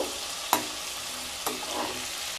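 Potatoes fry with spices for a katla fish curry, a loud continuous sizzle broken by two or three sharp stirring clanks against the pan.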